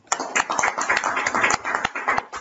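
Hands clap nearby in a quick run of sharp claps with an uneven rhythm, heard alone for a couple of seconds.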